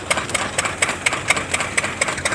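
A groundnut threshing machine runs on a farm, a steady mechanical drone broken by sharp rhythmic knocks about every quarter second, loud and close with no talk.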